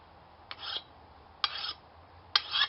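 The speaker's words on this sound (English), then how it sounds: "But go ahead and start filing this edge." A metal file rasps along the edge of a lawn mower blade in three separate strokes, each a short scraping pass, close and fairly quiet against a still background.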